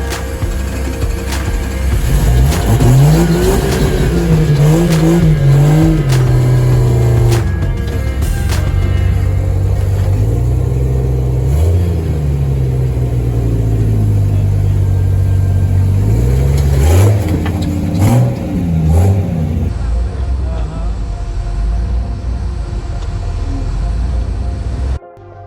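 A stick-shift rock crawler grinds up a boulder trail at night near Moab. Its engine revs loudly and close by, rising and falling continuously as the driver works the clutch, with no voices.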